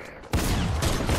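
A single sharp, loud sniper rifle shot in a video game cracks out near the start, then a dense burst of gunfire and battle noise follows and keeps going to the end.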